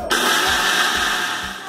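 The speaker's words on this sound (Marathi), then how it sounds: "मिक्सरमध्ये मी याची बारीक पेस्ट करत आहे तांदळाची." An electric mixer grinder blends overnight-soaked rice into a fine paste, whirring steadily and loudly close up, with a low rhythmic churning pulse beneath the motor's whine.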